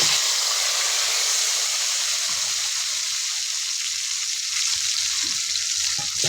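Potato pieces frying in oil in a wok after fish, a continuous loud sizzle with faint stirring scrapes and small bubbling crackles throughout, no talking.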